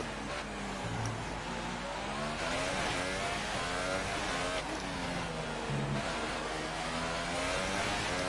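A Formula 1 car engine in the F1 2018 racing game drones loud and steady throughout, its pitch rising and falling with gear shifts as it accelerates.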